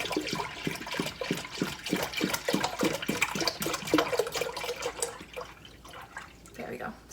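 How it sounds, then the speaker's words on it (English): A gallon of whole milk pours into a pot that already holds melted ice, giving a steady, close splashing gush that tapers off near the end. "you want to go ahead and add your 1 gallon of whole milk"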